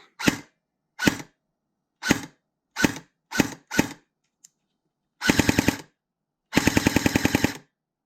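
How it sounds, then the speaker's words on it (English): A Lancer Tactical Interceptor Gen2 SPR airsoft rifle fires six sharp single shots at a steady pace, then two rapid automatic bursts, loud and close, with silence between. "This is the firing test."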